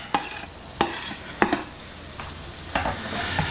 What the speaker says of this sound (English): Onions go in